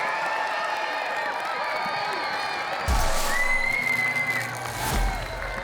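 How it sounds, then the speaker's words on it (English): A crowd roars and cheers in a large arena, a burst of noise swelling partway through with a whistle rising over it, then a second surge near the end. "Moving on to the semi-finals, a massive round of applause with Alex with TR4."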